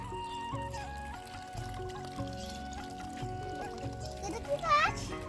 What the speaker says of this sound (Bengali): চলো আমি গাছে জল দেওয়া শুরু করি এই যে কলতলায় চলে গেছে তো চলো জলটা দিয়ে নিই